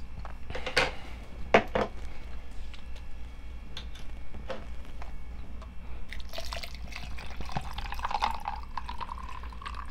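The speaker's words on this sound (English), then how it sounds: "So let's put the water in shaker cup" Water pours into a pink plastic shaker cup with irregular drips and splashes, close and moderately loud, ending in a steadier filling trickle with light plastic and utensil clatter.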